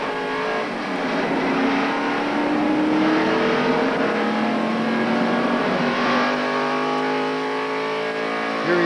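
A NASCAR Winston Cup race car at the 1993 Daytona 500 accelerates out of pit road, its engine note climbing steadily and loudly as it comes up to speed, with no talk over it.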